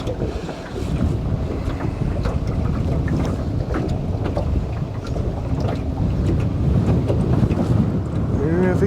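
Strong wind buffets a small anchored fishing boat on open water, a loud continuous roar of gusts battering the microphone, with water slapping faintly underneath.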